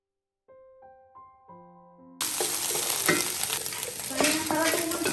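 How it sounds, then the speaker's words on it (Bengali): After a short rising chime of musical notes, eight eggs scramble in a hot pan for fried rice, giving a loud, constant sizzle with occasional scraping strokes of stirring. "এখানে আমি 8টা ডিম স্ক্রাম্বল করে নিচ্ছি ফ্রাইড রাইসের জন্য"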